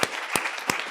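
Three slow, evenly spaced, sharp claps ring out in a conference hall at a human rights and business forum, each one distinct and followed by quiet.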